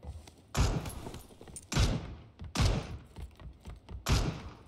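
Gunshots in the battle-royale game PUBG: four heavy, sharp bursts spaced about a second apart, each with a booming low thud and a quick decaying tail, fairly loud and with no talk.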